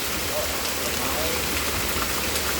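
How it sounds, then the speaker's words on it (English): Heavy storm rain pours steadily and loudly onto surfaces in Pittsburg, Kansas, a dense unbroken hiss with no voices heard. "I might get 3 to 5 inches tonight with this rain if it keeps going like this."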